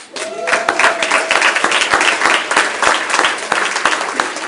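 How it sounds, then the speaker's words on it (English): An audience at a public action assembly on housing breaks into loud, continuous applause, many hands clapping densely close by, with a faint brief tone near the start. "Can you give yourself an applause?"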